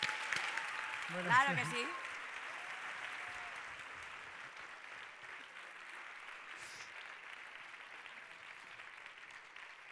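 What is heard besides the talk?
audience applause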